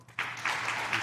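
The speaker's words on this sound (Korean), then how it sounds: "우리 김현태 안수집사님 박수 한번." A church congregation claps for a deacon, a dense broadband patter of applause that starts abruptly after a brief quiet moment and holds steady and close.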